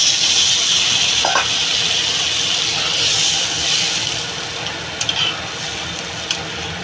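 Fish curry sizzling in a pan just after water is added, a steady loud hiss and bubbling throughout with a few small clinks of a utensil near the end.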